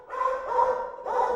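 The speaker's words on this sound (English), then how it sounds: "Right now the dog is really close, but if I turn up the reverb, it sounds much further away" Two or three dog barks smeared with heavy reverb so they seem to come from far off, each bark a soft, echoing bow-wow tail with no voices around.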